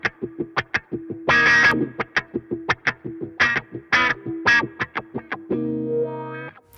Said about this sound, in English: Right, onto the Whacko Plus. I've got it set onto the third setting of the sweep function.